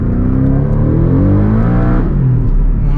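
A 2019 Porsche 718 Cayman GTS accelerates hard in normal mode, a loud, close, continuous engine note climbing steadily in pitch through the gears.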